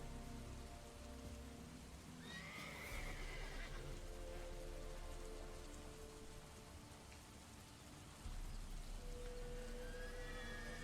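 A horse neighs once, fairly faint, amid steady rain and ambient background, with soft hoofbeats and no talking.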